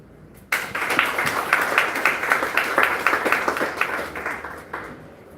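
An audience at a sponsored evening event bursts into applause, a dense round of clapping that starts abruptly and holds steady before tapering off.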